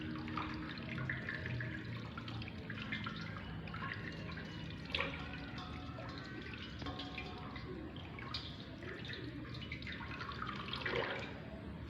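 Hands rinsed under a running tap, giving a steady, continuous splash of flowing water with faint drips throughout. No voices are heard.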